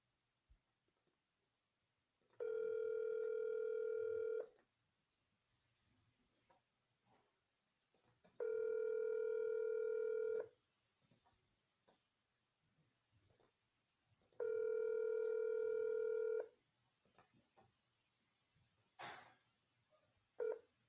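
An outgoing cold call to a cash buyer rings on the line: three evenly spaced, steady two-second ringback tones separated by quiet gaps with faint background noise.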